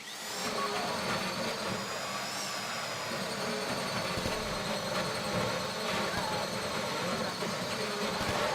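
A drill grinds continuously into a safety deposit box during the Fleeca Job heist in GTA 5, giving a loud, steady mechanical whine and rumble that runs throughout.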